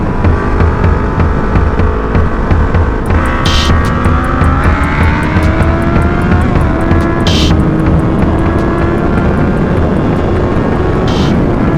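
A Yamaha R1 sport motorcycle engine drones loudly at high speed, a dense steady roar with rising harmonic pitch and heavy wind rush throughout, recorded close from the rider's position.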